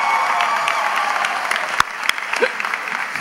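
A large audience at a 2017 regional high school graduation claps steadily and loudly, with a few scattered shouts and cheers rising over the dense applause.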